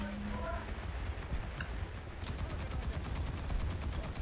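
Naval guns fire in a War Thunder sea battle: a distant, low rumble of rapid, repeated shots pulses over steady engine and water noise, fairly faint throughout.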